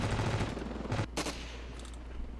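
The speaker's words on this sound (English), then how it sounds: "let's try this AK" Rapid AK rifle gunfire in the stick-figure battlefield game Ravenfield, a close burst of sharp shots with a loud crack near the middle, then quieter distant firing and ambient battle noise.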